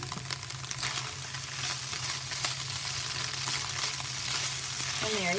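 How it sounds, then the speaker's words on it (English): Vegan breakfast potato scramble sizzling and frying steadily in a pan, a continuous close crackle with a low stove hum beneath, no talking. "And there you have your scramble. Love the way it's getting crispy."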